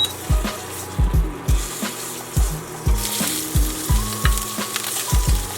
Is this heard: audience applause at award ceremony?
no